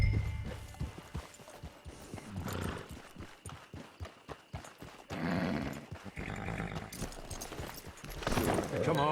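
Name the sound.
horse hooves walking, video game Red Dead Redemption 2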